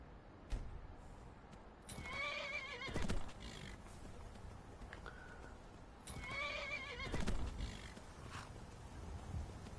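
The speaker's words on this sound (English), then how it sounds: "Wild horses will buck until tamed, stay mounted until they submit." Wild horse neighs twice in a video game, each whinny a loud, shaky high call with hoof clatter and ambient game sound underneath, spaced several seconds apart.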